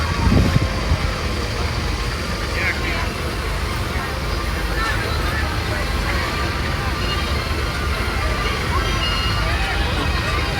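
A 1927 Fowler Showman's steam engine owned by the Gill family of York rumbles past in a steam rally parade, a steady, loud, low mechanical drone with crowd chatter and other vehicles all around throughout.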